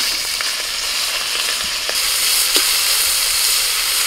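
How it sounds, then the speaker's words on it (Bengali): Prawns frying in a little oil in a wok, a steady close hiss and sizzle with a few light stirring clicks, continuous throughout with no talk. "এখন মাছটা ভেজে নেব।"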